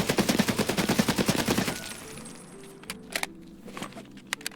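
Rapid burst of AK rifle hip fire in Escape from Tarkov, a loud, evenly spaced string of roughly fifteen shots lasting under two seconds, followed by quieter clicks and handling sounds.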